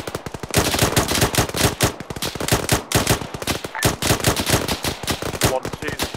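Automatic gunfire during a military video game operation; sustained rapid bursts of loud, close shots in a steady staccato rhythm with brief gaps, and no talking.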